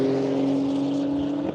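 A race car at the Hastings track carries steady throttle through a corner, its engine holding a sustained, fairly close drone that stays even before easing slightly at the end.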